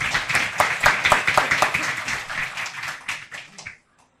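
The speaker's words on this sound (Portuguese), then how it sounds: "uma salva de palmas" Applause from an audience at a talk, a dense burst of many hands clapping close and fairly loud that thins out and stops abruptly after a few seconds.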